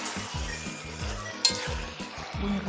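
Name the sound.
food frying in oil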